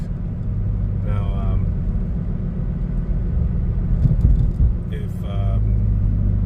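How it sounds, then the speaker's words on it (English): Road roar from Falken Azenis RT615K tires on a moving car, a steady heavy low drone heard from the cabin, with someone talking briefly over it. "just gonna have to deal with these tires sounding like you're driving a freaking 18-wheeler"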